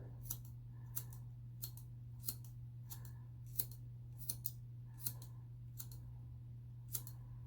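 Scissors snip through hair during a home haircut, giving about a dozen crisp, close cuts at a steady, unhurried pace over a constant low electrical hum, with no voices.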